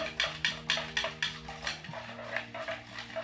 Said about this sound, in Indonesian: Setelah itu larutan biang eco farming ini kita aduk sempurna